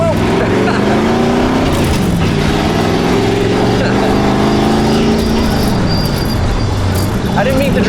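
A 1929 Ford truck hot rod accelerates hard, its loud engine note climbing and falling through gear changes at close range, with people talking faintly over it.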